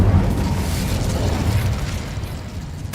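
Incendio fire spell burst in the Hogwarts Legacy video game, a loud sustained whooshing roar of flame with a dense rumbling body that fades slightly over a few seconds, no voices present.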